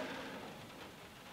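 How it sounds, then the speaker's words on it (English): Steady rain patters continuously, a dense wash of drops with no voices, fairly quiet and even throughout. "It's raining right now"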